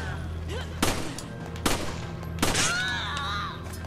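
Three sharp, loud gunshots ring out at roughly even intervals in Resident Evil 5, each a sudden crack with a brief tail, over a low humming game background.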